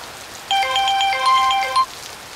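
A phone rings on a call with a short electronic melody, one burst of quick bright tones lasting about a second over faint background hiss.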